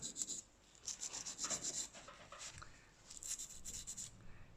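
Ceramic sanded by hand with sandpaper, using progressively finer grades, in short rhythmic gritty rubbing strokes in bursts with brief pauses, close and fairly faint with no talk.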